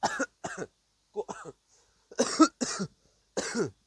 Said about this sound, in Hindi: खांसी है।